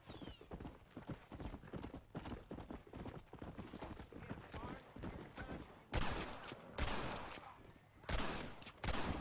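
Heavy gunfire striking a house in Red Dead Redemption multiplayer, dense rapid crackling shots mixed with horse hooves clip-clopping, growing louder in bursts toward the end.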